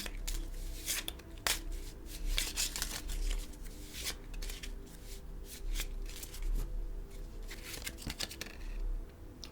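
Tarot karma cards are shuffled quietly and continuously at close range, a soft riffling patter of card edges with no speech.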